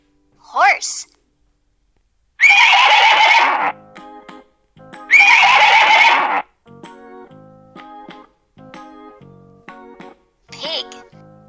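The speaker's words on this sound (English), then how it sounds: "Horse." A cartoon horse neighs twice, loud and close, in a children's animal-sounds sequence, with short voice-like calls at the start and end over a light musical backing.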